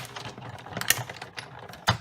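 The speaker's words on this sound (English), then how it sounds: "So now I'm ready to put them all through the Big Shot" A Big Shot die-cutting machine runs black paper through to cut scalloped oval shapes, producing close, irregular clicking and clacking with two sharper knocks and no talk.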